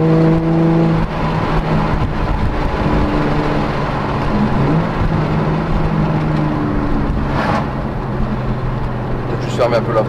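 A Nissan 350Z engine runs loud and steady inside the car, its tone shifting as it pulls through the gears, with a driver and passenger talking over the drone throughout.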